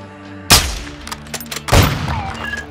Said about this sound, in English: Sniper doesn't have a silencer on it